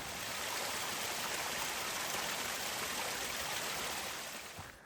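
A seasonal stream on the Pacific Crest Trail rushes steadily with a dense, even hiss of flowing water, close and loud, tapering off at the very end.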